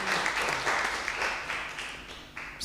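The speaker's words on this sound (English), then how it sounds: "let's give it an applause." Conference audience at an inclusive peer learning and augmented reality event giving a short round of applause, a brief wash of mixed clapping that holds steady and then tapers slightly, with no talk over it.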